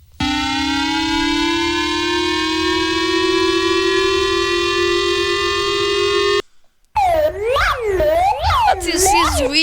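An EAS alarm siren wails loudly in a long rising tone with rich harmonics, then after a short gap gives way to rapid warbling, whooping siren sweeps.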